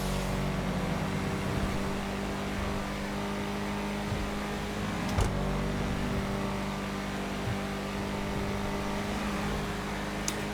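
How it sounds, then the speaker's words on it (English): A turbocharged Obey Tailgater S engine in GTA 5 hums steadily with a low, continuous drone, rising slightly in places, with a couple of brief sharp clicks over the steady tone. "Turbo sounds very nice."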